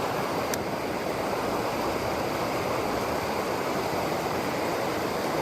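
Steady broadband rush of a waterfall pouring into a plunge pool, heard close and continuous with no talk over it.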